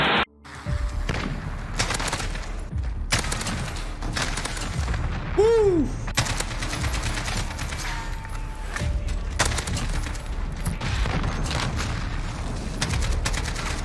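Gunfire in the video game Modern Warfare with an AK-47 involved: repeated heavy shots and bursts with booming impacts, dense and loud throughout, some louder cracks standing out against a continuous rumbling battle background.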